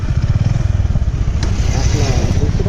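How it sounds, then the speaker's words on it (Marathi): A motorcycle engine runs close by on a road trip, its loud, low, pulsing throb holding steady from start to finish with no voices over it. "गाडी करूया चालू."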